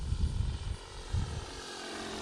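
A Sig Kadet Senior radio-controlled model airplane passes slowly upwind down the field, its engine drone swelling twice and then easing to a steady, fairly distant hum.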